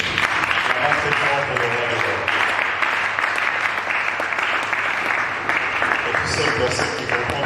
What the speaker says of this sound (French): Est-ce qu'on peut acclamer pour les seigneurs?